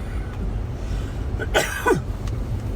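A single short cough, close and moderately loud, over a steady background hum.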